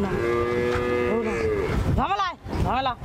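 Cows on a large cattle farm moo several times, drawn-out calls near and fairly loud, with a farm background beneath them.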